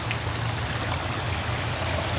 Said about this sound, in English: you're greeted by this awesome little waterfall that goes all the way into that hillside